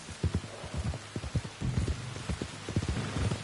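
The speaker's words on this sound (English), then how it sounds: "You were right about the damn rain." Steady rain hisses down in Red Dead Redemption 2 while horse hooves clop rhythmically through it, the rainfall forming a constant wash beneath the uneven hoofbeats.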